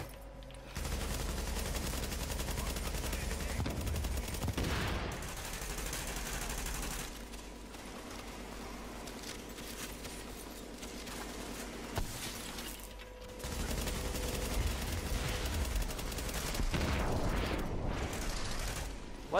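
Gunfire from the video game Tom Clancy's The Division comes in dense bursts of rapid shots with mechanical clatter, loud and continuous across two long stretches separated by a quieter gap.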